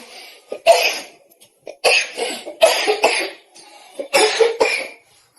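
A woman coughs hard in several bursts, three clusters of harsh close coughs separated by short pauses and quieter throat sounds, during a live stream.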